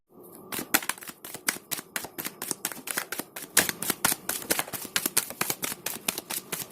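Tarot cards are shuffled in quick, steady riffling bursts, a close, crisp run of rapid snaps and flicks that continues throughout with no talking.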